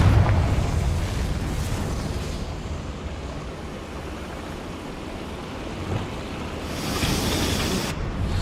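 In Hogwarts Legacy, a Confringo fire spell bursts with a loud, broad whooshing roar that settles into a sustained rushing rumble, then swells again near the end.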